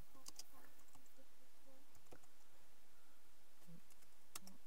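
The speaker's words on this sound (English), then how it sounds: "I will type some Japanese." Japanese being typed on a computer keyboard with Microsoft Word for Mac: soft, scattered key clicks in short irregular bursts, close but fairly quiet over steady background hiss.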